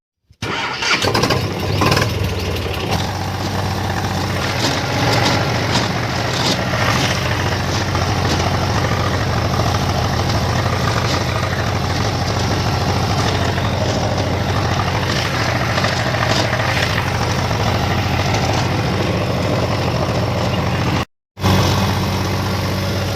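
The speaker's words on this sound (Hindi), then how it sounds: "ट्रैक्टर फंस गया।" A stuck tractor's engine runs steadily and loudly at close range for the whole stretch, with a brief cut near the end and no talk over it.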